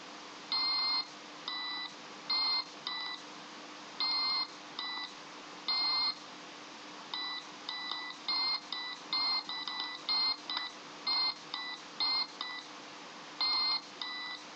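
A small buzzer in an Arduino project beeps as buttons are pressed, producing clusters of short, steady electronic tones in varying irregular patterns over a faint constant hum, with no talking.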